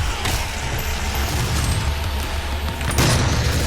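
Explosions and heavy weapon fire in the video game DOOM, a loud, dense, rumbling blast with a steady low roar and a fresh burst near the end, no voices over it.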